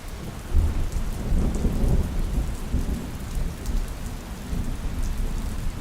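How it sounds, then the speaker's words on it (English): Steady heavy rainfall patters on surfaces with low rumbling thunder rolling underneath throughout, a continuous dense wash of sound with no voices. "As I sit here, listening to the rain"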